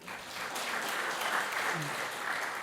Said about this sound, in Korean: 박수 좀 쳐드려요.